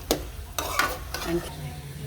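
Tempering for an old-style gongura curry sizzles in hot oil, with short bursts of crackling and stirring against the pan over a few seconds and no talking.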